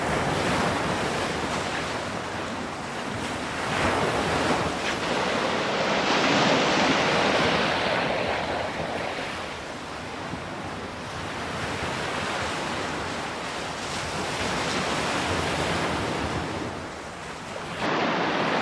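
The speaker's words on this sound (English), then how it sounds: "about listening to the sound of crashing waves on the shore." Waves crash and surge onto the beach along a coastal trail on a bright day, a continuous roaring wash of surf that swells and recedes, with wind buffeting the microphone throughout.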